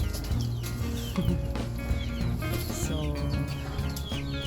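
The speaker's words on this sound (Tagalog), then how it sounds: "first time kong ipinakain ang ganitong patuka sa mga manok" Chickens clucking and murmuring nearby while pecking at melon rind feed, overlapping calls in an outdoor yard, with a brief spoken word.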